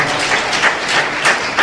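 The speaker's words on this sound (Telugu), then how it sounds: "చప్పట్లు కొడదాం." A church congregation claps together during a sermon: steady, dense applause with a few louder swells, filling the whole short stretch with no talking over it.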